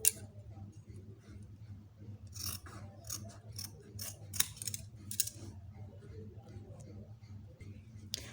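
Scissors cutting out fabric pieces for a bomber jacket, a series of quiet crisp snips in irregular bursts close by, over a low background hum.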